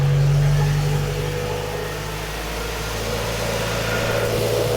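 A Honda Civic engine runs steadily with its AC compressor spinning, a close, constant mid-pitched hum and drone with a low tone that starts slightly louder and then settles.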